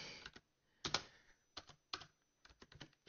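Keystrokes on a computer keyboard, several separate bursts of quick clicking with short pauses between them, close and fairly quiet with no talking.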